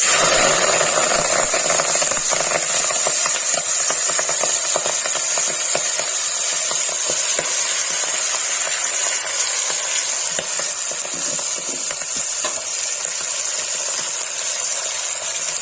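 Saag hits hot oil with cumin and asafoetida in a Kashmiri saag paneer dish, giving a loud, steady hiss and crackle that eases slightly as stirring goes on, close and uninterrupted.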